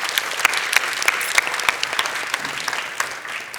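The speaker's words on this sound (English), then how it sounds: "Let's give big applause to Bitmagic." A conference audience clapping, a brisk, dense burst of applause from a nearby crowd that stays fairly even throughout.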